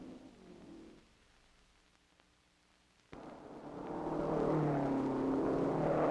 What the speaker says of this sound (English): Here is Moretz, the winner, coming into the finish and the checkered flag.